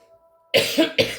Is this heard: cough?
yes